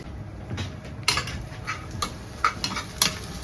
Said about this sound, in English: keep that on one side for a couple of minutes while the onions just sweat down a little bit more